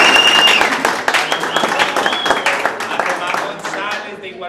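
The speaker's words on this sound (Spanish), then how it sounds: "para quien pido un aplauso" An audience applauds at a rock and culture awards event, loud clapping with distinct claps audible, tapering off and fading out near the end, with some voices beneath.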